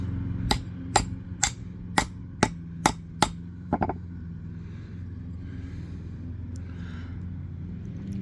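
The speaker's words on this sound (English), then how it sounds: "You can just whack that with a hammer to get it straightened out." A hammer whacks a thin steel arcade dance pad panel to straighten it, with about eight sharp metallic strikes at a steady pace before a few quick final taps, followed by quiet background hum.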